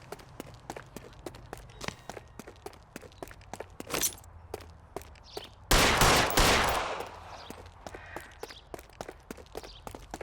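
Gunfire in the video game L.A. Noire during a chase: a dense run of rapid footsteps, then a single loud shot, and after a pause a heavy blast that decays slowly, followed by more running steps.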